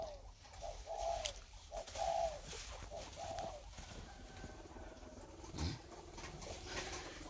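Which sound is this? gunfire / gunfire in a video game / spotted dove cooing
spotted dove cooing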